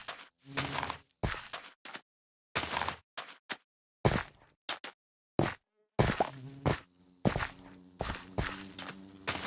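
Bees buzz among placed flowers in a Minecraft map, heard as a run of short, separate buzzy bursts with brief gaps, fairly close and moderately loud, with no talking.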